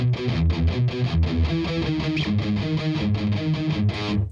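Palm-muted distorted electric guitar plays a tight, chugging riff, with repeated two-note figures in a steady driving rhythm, loud and close, no speech.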